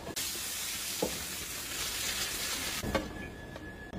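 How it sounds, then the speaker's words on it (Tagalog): Battered chicken frying for sweet and sour chicken, a steady close hiss of hot oil with a couple of brief sharper crackles, continuous throughout and without talking. "Pagkahuman, prituon na ito."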